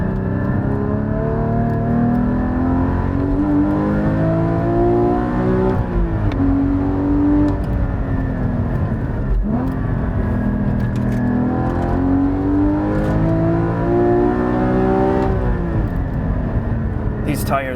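A GT3 sports car with dampers in sport mode accelerates hard through turns, its engine note climbing and dropping with each shift in a steady, loud drone while someone talks over it.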